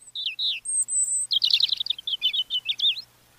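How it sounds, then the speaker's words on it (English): A European robin sings a bright, high-pitched phrase of quick trills and twittering notes, close and clear against a quiet background, ending after about three seconds. "a migratory songbird like this European robin"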